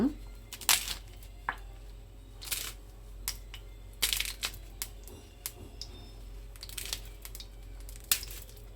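A knife cuts leaves into small pieces on a board while preparing a homemade knee-pain oil, giving irregular crisp taps and crunchy chops, some in quick bursts, close and fairly quiet over a low background hum.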